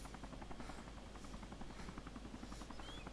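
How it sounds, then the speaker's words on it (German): Helicopter hovering in the DayZ video game, a continuous rhythmic rotor chop at steady moderate loudness throughout, with no talk. "Der Heli bleibt genau da stehen."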